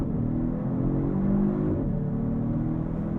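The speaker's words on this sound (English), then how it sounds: "Oh yeah, that's a low 4-second launch right there." 2022 Genesis G70 3.3T V6 Sport RWD on a launch-control start, a steady, close engine drone rising in pitch as the car accelerates hard, heard alone.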